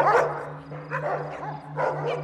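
A dog from the 2005 werewolf horror film Cursed barks and yips in short excited bursts, with whimpering tones, heard over a steady low hum and faint background film sound.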